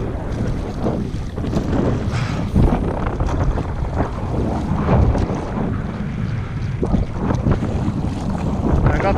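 Strong wind gusts across a lake shore, roaring and buffeting the microphone steadily, with a churn that may be lapping water beneath.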